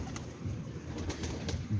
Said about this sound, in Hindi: ये जी मेरा सालकोटी कबूतर है